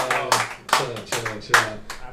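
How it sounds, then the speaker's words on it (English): An audience at a live comedy-style event applauds in a few short, uneven bursts of clapping, close and fairly loud, with voices mixed in. "you give yourselves a round of applause"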